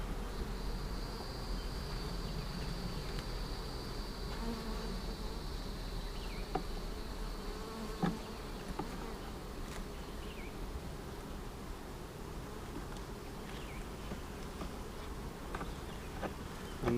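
Honey bees buzzing around an open hive during an inspection while boxes are added, a steady low hum with occasional louder bees passing close to the microphone.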